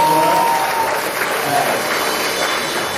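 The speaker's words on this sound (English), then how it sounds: "I would like you guys to give a round of applause to, you can consider her the co-host, Ona Okoye" Loud, sustained audience applause at the Black Diamond Awards 2024 ceremony, a dense continuous roar of clapping from a large crowd with no pauses.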